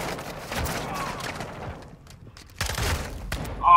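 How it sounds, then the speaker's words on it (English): Shotgun blasts and scattered gunfire in Call of Duty Modern Warfare 2, loud bursts separated by a brief lull, with a voice briefly audible in the mix. "he had a shotgun"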